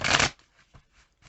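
A quick riffle of playing cards being shuffled, a loud burst followed by a few soft taps as the deck settles.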